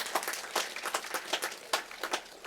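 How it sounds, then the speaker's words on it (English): A small audience gives applause at a community event in St. Lucia, scattered handclaps rising and falling in irregular bursts, fairly faint and a little distant, with no talking. "I want you to give them a round of applause for me"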